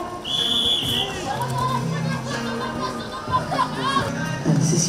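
A referee's whistle at a rugby match restarting play after a penalty: a clear, high sustained blast near the start, over crowd chatter and children's voices in the background.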